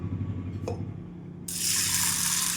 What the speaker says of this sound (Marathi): पाणी टाकून छान धुवून घेऊ